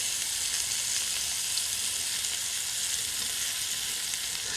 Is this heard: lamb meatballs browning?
yes